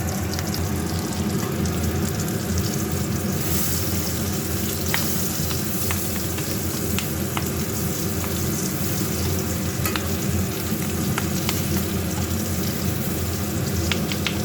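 Fish roe fries in a generous amount of hot oil with a continuous, close sizzle and scattered sharp crackles and pops, joined by a faint watery background.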